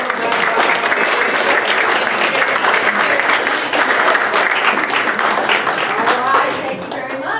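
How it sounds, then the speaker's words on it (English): An audience at a meeting gives a sustained round of applause for standing committee chairs, loud and dense clapping throughout with crowd noise mixed in. "would you please stand up and let us give you all a round of applause"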